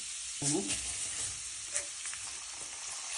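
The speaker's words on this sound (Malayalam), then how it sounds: "ക്യാരറ്റ് ചോപ്പ് ചെയ്ത് വെച്ചാൽ ഒന്ന് നന്നായിട്ട് ഫ്രൈ ആക്കാം" Chopped carrots fry in a pan for ghee rice, giving a steady hiss of sizzling throughout with a few light stirring and scraping sounds and a brief faint voice.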